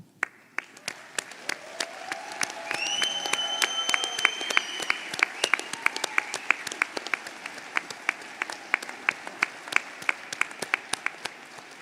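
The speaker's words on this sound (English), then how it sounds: "please stand and give them a round of applause" Graduation audience applauding at a PharmD commencement ceremony, scattered sharp claps building into sustained applause that continues for several seconds, while a few tonal whistles or cheers rise briefly early on.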